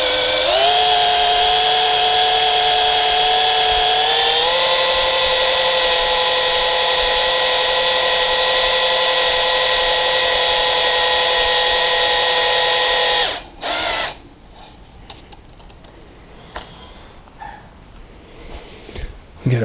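A power tool hones the engine cylinders during a RAM 50 engine rebuild, giving a loud, steady high-pitched whine that shifts pitch once early on. It cuts off abruptly near the end, leaving quieter handling noises.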